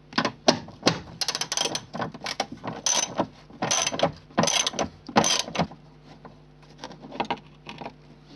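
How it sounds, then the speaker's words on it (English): A ratchet wrench works loose a 13 mm rear bumper bolt in the boot corner of a Ford Fiesta, giving close, irregular bursts of rapid clicking with short pauses between strokes. "In each corner, there's a bolt that needs removing."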